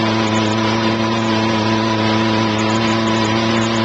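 A tote tank agitator mixing beads runs at a steady speed, giving a loud, continuous close mechanical drone with a constant motor hum and a faint churning wash beneath it, no voices.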